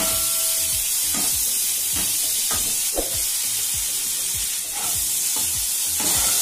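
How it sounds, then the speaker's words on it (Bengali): Shrimp seasoned with salt and turmeric sizzle loudly in a hot pan, a steady hiss broken by repeated scraping stirs, close up with no voices. "লবণ আর হলুদটাকে চিংড়ি মাছের সাথে মিশিয়ে নিয়ে ভাজা করে নিতে হবে।"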